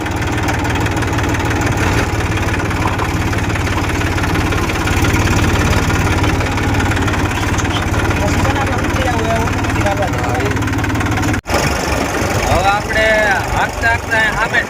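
A tractor engine fitted with a Moba GPS steering system idles steadily and close by with a heavy low knocking throb, while someone talks briefly over it.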